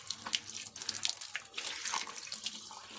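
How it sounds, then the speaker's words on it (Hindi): Running tap water splashes over an elephant foot yam as it is washed by hand, a close, continuous gush with uneven splatters and no talk. "इसे अब ऐसे करके धो लेते हैं,"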